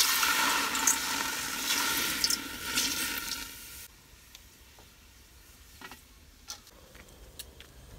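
Water running from a tap while preparing Moroccan couscous, a continuous gushing pour for about four seconds, then it stops, leaving faint clicks and small kitchen sounds.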